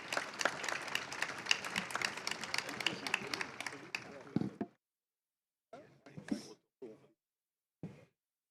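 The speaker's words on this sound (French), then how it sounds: "On peut applaudir nos invités cette fois-ci." Audience at an automotive industry conference applauds the guest panelists, a dense burst of clapping for about four and a half seconds that stops abruptly, followed by a few scattered sharp thumps and handling noises.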